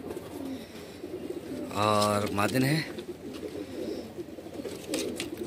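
Jacobin pigeons at a Bhopal pigeon sale coo softly in the background while someone talks close by, with his voice dominating the middle of the stretch.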